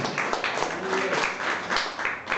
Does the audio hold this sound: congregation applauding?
yes